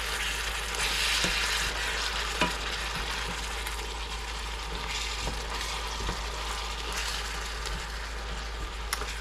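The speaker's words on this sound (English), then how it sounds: "we've got the ingredients just perfectly sauteed here, so we're going to stir them up one last time" Onions and peppers sizzling steadily in a hot pan while being stirred, a dense continuous frying hiss close up with occasional soft scrapes from the stirring utensil.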